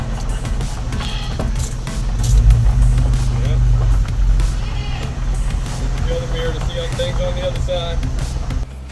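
A pickup truck driven by a 13-year-old girl rumbles along at low speed with its engine swelling briefly and then settling into a steady hum, up close.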